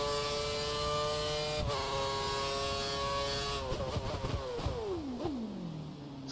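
High-pitched Formula 1 engine from the F1 2013 racing game, loud and close, holding a steady scream with layered harmonics, then dropping through several downshifts and revs before winding down to a lower idle-like drone; no talking.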